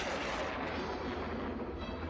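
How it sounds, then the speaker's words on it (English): Real film explosions set off on a ship's mast, heard as a sustained, low, rumbling roar with a dense, noisy wash and no distinct separate blasts. "That shot is a combination of rotoscope lightning as well as real explosions going off on the mast."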